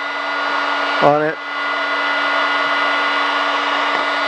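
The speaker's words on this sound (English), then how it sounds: "So that's right now you're hearing the high setting." A DeWalt heat gun on its high setting blows a steady, loud rush of air with a constant motor hum. A brief spoken phrase cuts in about a second in.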